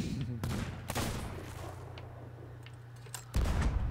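Gunfire in the pirate video game Sea of Thieves, with several sharp cracking sniper-style shots spaced irregularly, one near the start, one around a second in, and a heavier burst near the end, over a low ambient rumble.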